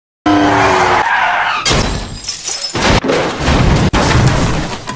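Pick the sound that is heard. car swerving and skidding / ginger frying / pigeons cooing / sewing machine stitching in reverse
car swerving and skidding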